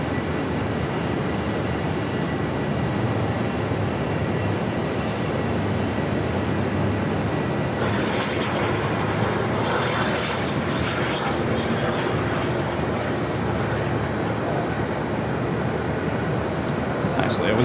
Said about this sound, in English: That was WestJet, flight 1924, coming in from Saskatchewan at 737-800.